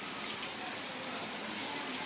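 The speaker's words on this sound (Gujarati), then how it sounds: "જો વરસાદ કેવો ચાલુ છે" Steady rain falls in a continuous, even hiss with no breaks, heard up close.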